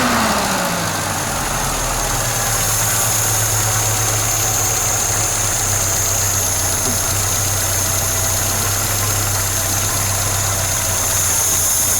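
A Peugeot 505 2.0 engine fitted with a double barrel carburettor idles loudly and close up, a steady, even rumble with a constant vibrating hum that continues unbroken throughout.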